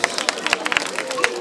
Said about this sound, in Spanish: Bueno, un aplauso, anda.